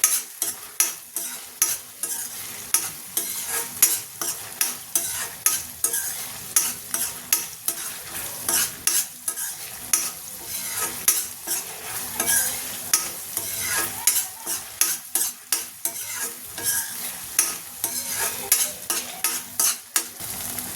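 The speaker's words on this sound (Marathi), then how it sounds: "अशा पद्धतीने आपण हा मसाला परतवून घेऊया" Masala for dhaba-style dum aloo sautéed over medium heat in a pan, with a rapid, regular run of dozens of spatula scrapes and stirs over a continuous sizzle, close and fairly loud, with no talking.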